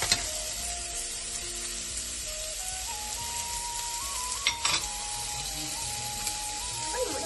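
Dried red chilies and fenugreek seeds sizzle steadily in hot oil in a pan while being stirred, a continuous close crackle with a few brief scraping knocks, no talk over it.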